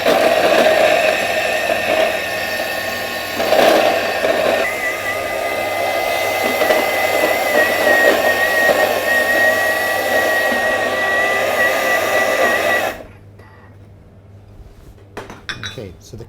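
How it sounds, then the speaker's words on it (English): A Thermomix motor whirs loudly and steadily for about thirteen seconds, grinding carrots dropped in one at a time, with rattling and clinking from the chopped pieces inside the bowl, then cuts off to near quiet with faint clatter. "the carrots are now ground in the machine"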